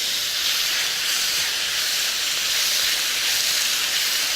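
Garlic sizzling in a hot pan with half-cooked ground chicken, a steady, bright hiss that stays even and loud from start to finish, close by with no talking.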